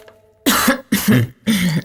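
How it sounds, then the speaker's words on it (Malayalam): Three loud, close, harsh coughs in quick succession, each a short rough burst separated by brief silences. "ചുമയുണ്ടോ?"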